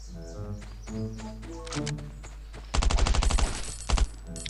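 Bursts of rapid automatic gunfire in the survival shooter Last Island of Survival, a dense rattling volley followed by a shorter burst, loud and close over a steady game background hum.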